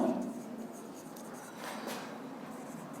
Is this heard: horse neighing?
no